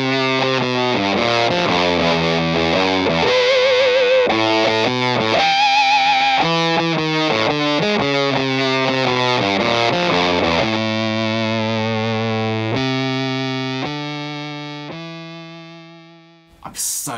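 A guitar through a Tonebender fuzz pedal plays a heavily distorted lead riff of sustained and shifting notes, loud and upfront, ending on a long ringing note that fades out.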